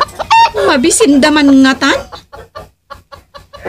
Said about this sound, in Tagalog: Nakaariwawa man ang dagiti manok atarakan ni tatang.